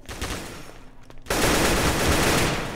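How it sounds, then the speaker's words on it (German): Sustained gunfire in the Roblox shooter Counter Blox, a dense rattling burst that swells after a brief lull and carries loud and continuous to the end, with no talking. "Ich hab mein ganzes Magazin geballert auf dich und du lebst"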